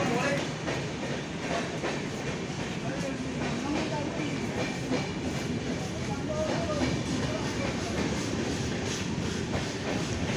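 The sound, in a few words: train passing at station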